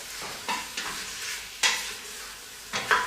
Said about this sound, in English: You can hear it sizzling there. Just brown that liver off.